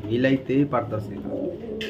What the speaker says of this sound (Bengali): সুপার মিলি খুঁজতেছেন, কিন্তু একজোড়া টপ কোয়ালিটির সুপার মিলি কবুতর মিলাইতেই পারতেছি না